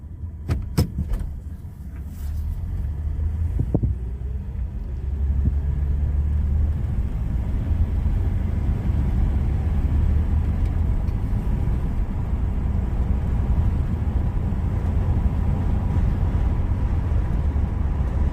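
A 1981 Buick Regal that has sat unused settles into a steady, close, low engine rumble after a few sharp metallic clicks and jangles at the start. The idle continues evenly without talk.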